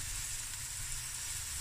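Garlic, ginger and salt fry steadily in a hot pan, giving a continuous close, soft sizzle with no voices over it.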